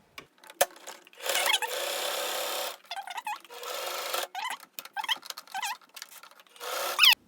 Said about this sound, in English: So what I just sewed was 2 L shapes